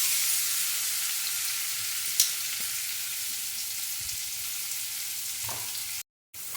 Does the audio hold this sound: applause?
no